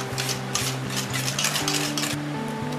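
Sugar and eggs being stirred together in a bowl, with a steady rhythm of scraping and light clinking of a utensil against the bowl under a humming tonal background, close and moderately loud, no talking.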